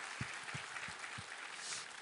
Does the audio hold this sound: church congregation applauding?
yes